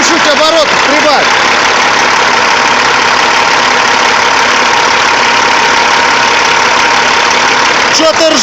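Caterpillar C15 diesel engine running loud and close, a steady rough mechanical roar throughout with no pause, its rumble holding at a constant level; a faint voice is audible at the start.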